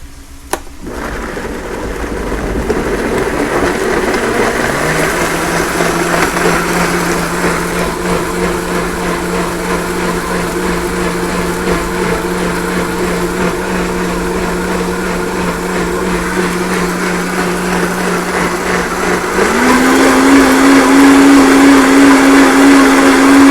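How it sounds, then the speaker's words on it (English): An electric blender whirs through spicy red salsa for tacos al pastor, a loud steady motor drone that starts after a click, holds its pitch, then jumps higher near the end as the blades spin faster. "And we'll start blending."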